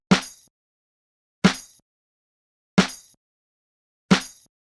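Layered snare and clap samples stacked into one boom bap hit, struck four times at a slow, even pace, each crack sharp and bright with a short decaying tail and silence between.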